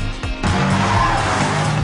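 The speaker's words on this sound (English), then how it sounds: "It's amazing driving the new M5 with Claudia around the Nürburgring." A new BMW M5 corners hard around the Nürburgring, its engine roaring loudly while the tires squeal and skid in a continuous, close, intense rush.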